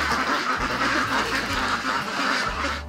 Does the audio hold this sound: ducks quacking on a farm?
yes